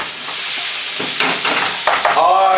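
Ackee and saltfish are stirred in a pot, with a close, loud sizzle and a few distinct scraping turns of the spoon.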